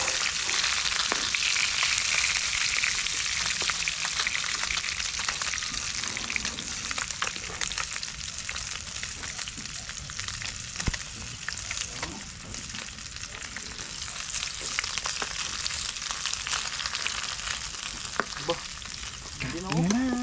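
Shrimp fry in a pan with a continuous crackling sizzle, close and steady for about twenty seconds, spattering and popping throughout.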